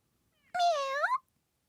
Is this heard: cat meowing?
yes